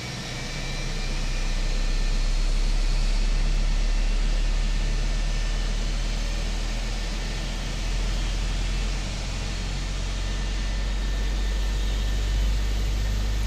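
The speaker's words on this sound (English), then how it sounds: "Such good sounds on the Phoenix. I really like these IAE engines as well." Airbus A320 IAE engines spool up in Microsoft Flight Simulator, a loud, steady roaring whine with a deep low rumble that holds for the whole stretch.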